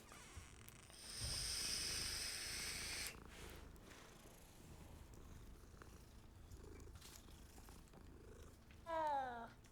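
A cat purrs steadily while being petted in Hogwarts Legacy, a soft continuous rumble that swells louder for a couple of seconds early on, then settles low, ending with a brief higher chirp.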